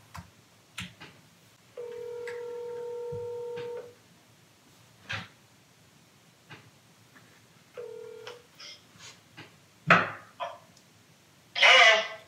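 A phone call to a sales lead plays on speakerphone, with two long ringback tones separated by quiet stretches and scattered clicks and taps nearby.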